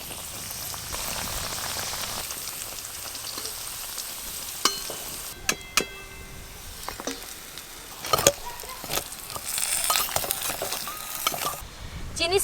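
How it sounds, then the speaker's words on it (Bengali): Pitha cakes fry in hot oil with a loud, dense sizzle and crackle, broken by sharp utensil clinks and scraping as they are turned, the bubbling growing busier toward the end. "আর একবার ভাজলে সব পিঠে ভাজা হয়ে যাবে।"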